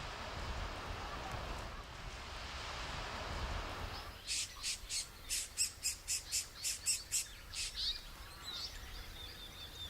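Swift parrots give a rapid series of sharp, repeated calls, about a dozen quick notes in a burst, over a background of wind and outdoor rustle; the calls arrive after a stretch of breezy ambience.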